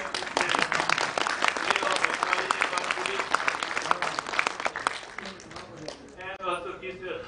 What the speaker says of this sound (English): So again, give a big hand to Dr. Rao.